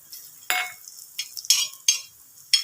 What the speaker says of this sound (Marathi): नंतर खोबरं आपल्याला याच्यात टाकायचं आहे त्याच तेलामध्ये